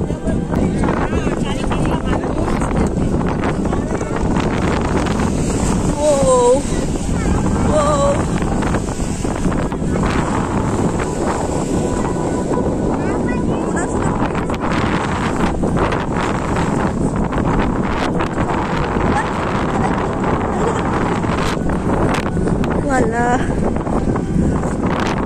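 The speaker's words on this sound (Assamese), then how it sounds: "ইমানেই বেছিকৈ বতাহ মাৰিছে নহয়" Strong sea wind buffets the microphone continuously near Haji Ali Dargah in Mumbai, a loud, rough roar with rustling gusts under intermittent talking.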